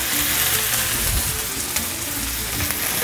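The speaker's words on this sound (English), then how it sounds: "these onions have been cooking for a little while" Onions fry in a pan for a burger recipe, giving a steady, close, crackling sizzle with small pops and no talking.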